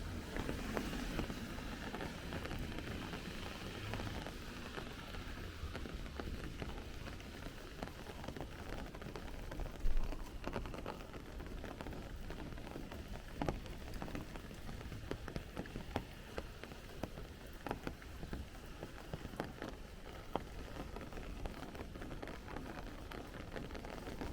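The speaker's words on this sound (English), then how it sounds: "It definitely sounds like the rain is starting to pick up now" Steady rain falling on a street in Bensonhurst, Brooklyn, heard while walking, as a dense continuous hiss with occasional louder drops and patters and no speech.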